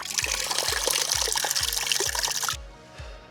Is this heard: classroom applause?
no